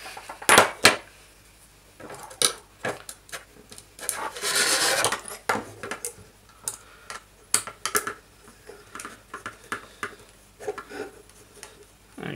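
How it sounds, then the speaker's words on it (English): Bolts on the front arms of a Redback tricopter frame are tightened with a hand tool, giving close, repeated ratcheting clicks and scraping rasps in irregular bursts, with one longer grinding stretch midway and no talk. "And we tighten up accordingly. And you do all six bolts in the front arms the same."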